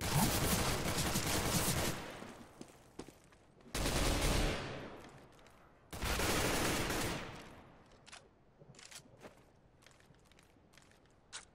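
Counter-Strike: Global Offensive rifle fire crackles in three loud sustained bursts, each about two seconds long, separated by gaps of scattered footsteps and small clicks, ending in sparse single sounds.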